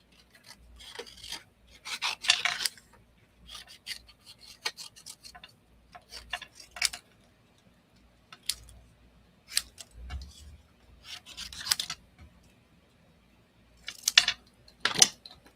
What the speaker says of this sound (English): Okay, now I'm going to hand cut these apart and die cut out.